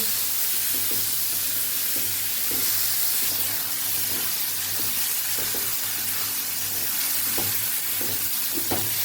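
Ivy gourd (tindora) sambharo sautéing in a pan, with a steady close sizzle and hiss throughout and soft repeated scraping taps of stirring at irregular intervals.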